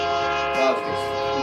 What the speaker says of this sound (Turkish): Ya da geçen bir tren.